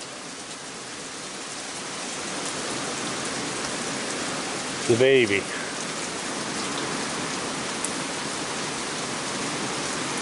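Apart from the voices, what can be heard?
heavy rain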